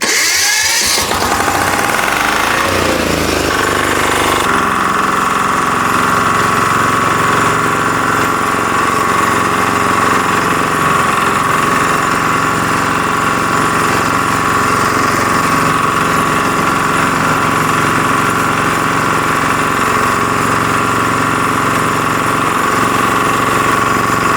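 A Kentavr 2010DE diesel walk-behind tractor engine idles at minimum throttle, a loud steady mechanical chugging with a constant hum that runs on alone for the whole stretch after a brief rougher start.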